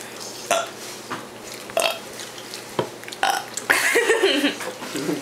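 A child gives several loud, close burps in quick succession, short ones first and then a long rumbling belch, with family voices and background chatter around them.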